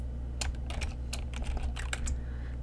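Fingers type on a computer keyboard while entering Excel VBA code, producing a steady, close run of quick plastic key clicks at an even pace over a faint background hum.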